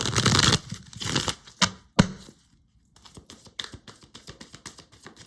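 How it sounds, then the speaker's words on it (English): Oracle cards being shuffled and pulled from a deck, a dense riffling burst at the start followed by a series of crisp card flicks and soft slaps, close and fairly quiet with no talk. "I'm going to pull some more oracle cards here for you."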